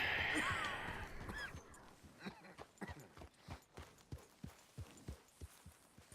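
Horse hooves clip-clop at a steady walking pace in Red Dead Redemption 2, a run of distinct close thuds after a brief burst of other game sound at the start.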